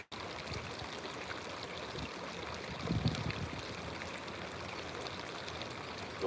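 Steady broadband rush of flowing water, like a stream, even and moderately quiet with a slight swell midway and no voices.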